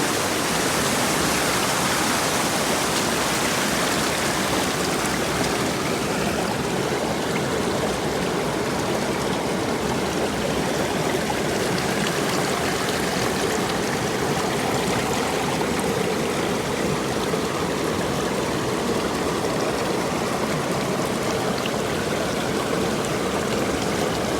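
Water rushes steadily through a gold sluice box, a loud, constant, broadband flow with no pauses and no voices.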